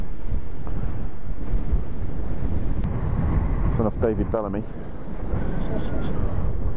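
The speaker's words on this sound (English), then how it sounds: "The wind has picked up big time." Strong wind on a mountain pass, blasting the microphone with loud, steady rumbling gusts throughout, while someone talks briefly over it.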